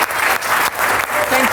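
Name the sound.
audience applause at a conference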